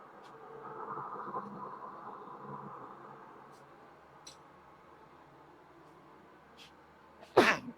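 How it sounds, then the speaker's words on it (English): A single sharp sneeze bursts out close to the microphone near the end, after several seconds of quiet low-level room noise. "Sneezing everywhere."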